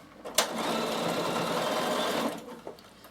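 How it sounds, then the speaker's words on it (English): An electric sewing machine stitching a seam across the top of a backpack lining, a steady fast whirring run of about two seconds with a click at the start and small clunks as it stops, loud and close. "So I'm going to sew my lining."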